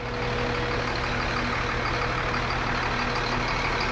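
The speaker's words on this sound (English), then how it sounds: "Here's our fuel truck." An airport fuel truck runs beside a Boeing 747 on the ramp, giving a steady, moderately close engine drone with a faint tonal whine and no break.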